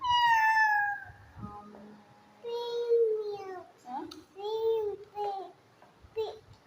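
A young child imitates a cat, giving a long drawn-out meow followed by several shorter meowing cries, near and fairly loud.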